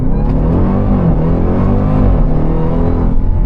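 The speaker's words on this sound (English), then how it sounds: "Let's put the thing back into track mode, shall we? Flick some downshifts." 2026 Dodge Durango Hellcat Jailbreak in track mode, a loud, deep exhaust rumble with engine note swells from downshifts, steady and close throughout.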